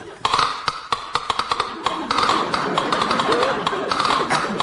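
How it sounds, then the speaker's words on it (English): Tap dancing in a comedy radio sketch: a quick run of crisp shoe taps in uneven rhythm, loud and close, with background murmur beneath. "Tap dancing. Watch."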